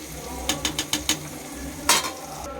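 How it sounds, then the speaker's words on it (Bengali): Yogurt stirred into spice masala frying in a pan: five quick spoon taps against the pan, then a longer scrape, over a soft continuous sizzle. "গাইজ আমি দইটা অ্যাড করে দিলাম, দিয়ে নেড়ে নেব"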